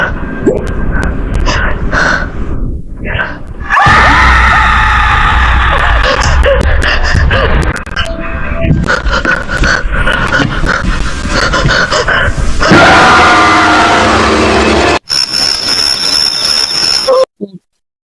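A scary ghost video clip set in Indonesia carries loud, piercing screaming and gasps, mixed with harsh rushing noise and abrupt cuts. The screams come in several bursts over about eighteen seconds.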